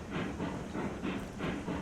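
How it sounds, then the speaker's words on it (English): A train in the RailRoads Online game lugs along its rails with a steady, low rumbling roll and a faint rhythmic clatter repeating about every third of a second, fairly quiet and alone. "Seems like the train is really lugging along"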